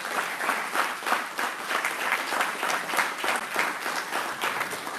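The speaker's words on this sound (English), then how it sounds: "Please join me in giving them one more round of applause." Steady audience applause fills a board of education meeting room, a dense wash of many hands clapping for several seconds at moderate volume with no talk over it.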